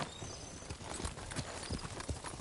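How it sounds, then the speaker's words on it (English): In the video game Ghost of Tsushima, a horse's hooves clip-clop in a steady trotting rhythm, fairly quiet and close, with no talk over them. "Horse!"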